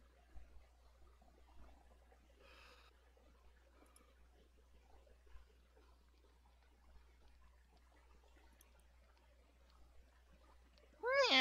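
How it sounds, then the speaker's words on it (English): A cat meows outside at night, faint and distant, with a couple of soft calls early on and a louder, closer meow right at the end over quiet background hum. "Just meow back at the cat."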